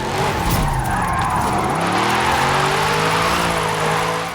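A 1955 Mercedes-Benz 300 SLR, tuned to 1,002 horsepower for all-wheel-drive drifting in Forza Horizon 5, revs hard as its tires skid, a loud, steady engine howl with pitch climbing through the slide.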